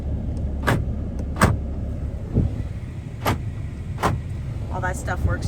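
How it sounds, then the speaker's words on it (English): Power door locks on a 2012 Ram 2500 Cummins truck actuate with several sharp, close clunks spaced about a second apart inside the cab, over a low background rumble, with faint talk near the end. "Door locks."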